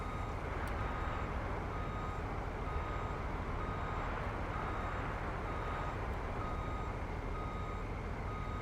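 A reversing truck in Farming Simulator 19 gives out a steady run of evenly spaced warning beeps over a constant engine rumble. The sound is quiet and unbroken.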